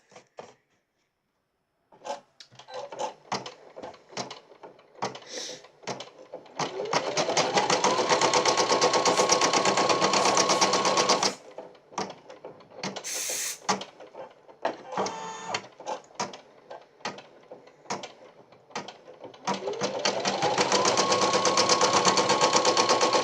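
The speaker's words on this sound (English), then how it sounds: "Now I'm fixing to stitch out the wheels." An embroidery machine stitches wheels for a Christmas ornament in the hoop, a rapid, steady mechanical chatter that starts and stops in long runs, close and loud.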